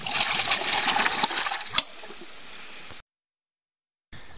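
A homemade ram pump pushes water up to a header tank about 50 meters ahead, giving loud splashing, gushing bursts with sharp clacks that stop abruptly. A short silence follows before the sound returns faintly.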